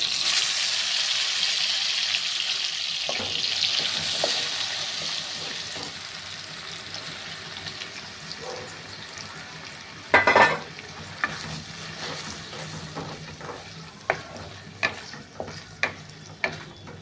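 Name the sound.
sautéing banana flower paste in a pan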